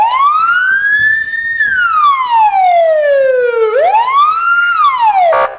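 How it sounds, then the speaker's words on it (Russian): A loud, close traffic police car siren wails in long rising and falling sweeps, then dips and climbs again before cutting off abruptly. "Звук сирены для уха человека малоприятный."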